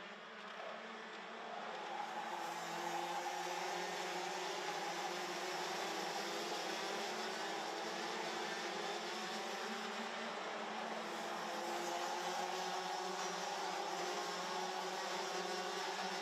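DD2 racing karts lapping the Genk circuit in a prefinal race, a steady, dense engine roar holding for the whole stretch, distant and unbroken, with no talk over it.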